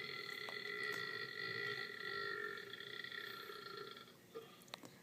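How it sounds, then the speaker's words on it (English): A person in a burp contest lets out a long, loud, drawn-out belch lasting a few seconds, followed by a couple of shorter faint sounds near the end. "burp it again"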